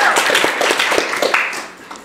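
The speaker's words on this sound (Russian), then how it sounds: "под ваши аплодисменты" An audience breaks into scattered applause after a poet introduces his poem "Ocean", a short run of irregular claps that fades toward the end.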